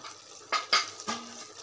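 Metal lid set down on a cooking pot of dum aloo, a few short clanks and scrapes of metal against metal, close and fairly loud with no talk.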